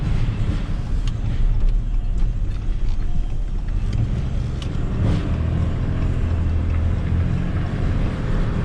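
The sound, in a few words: Cummins diesel truck engine towing a trailer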